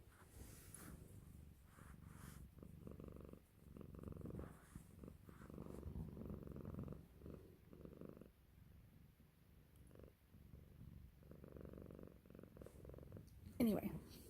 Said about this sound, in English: And then you get these gorgeous purrs.